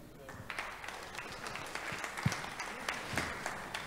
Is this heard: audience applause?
yes